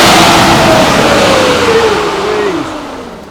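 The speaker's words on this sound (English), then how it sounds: "hear what this diesel sounds like?" A diesel truck engine with an exhaust leak revs up loudly and then winds down, its pitch sliding lower as it settles, close by.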